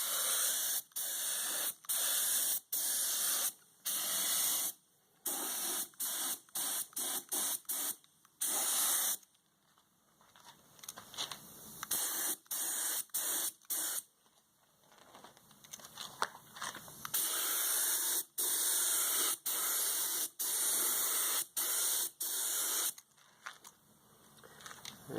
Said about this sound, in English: so I'm just going to give it a quick spray.